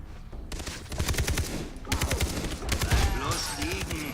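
Gunfire in the video game Far Cry 3, loud bursts of rapid automatic shots over a busy background of battle noise, with some quiet talk underneath.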